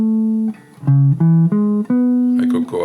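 A guitar sounds the notes of a four-note chord one after another, each clear, close tone ringing briefly as the pitch steps up, ending in a blended, buzzier strum.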